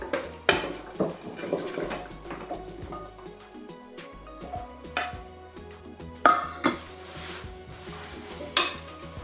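Lamb pieces are stirred in a pot to brown, with a steady sizzle under repeated scraping and clanking of a utensil against the metal, some knocks sharp and close.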